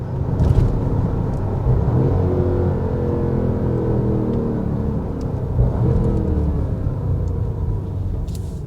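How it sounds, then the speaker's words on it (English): A 2026 Porsche Cayenne Turbo E-Hybrid SUV gives a steady, deep engine and exhaust rumble with a brief swell of revving, sustained and fairly loud from start to finish, with no voices over it. "Give you a little exhaust note."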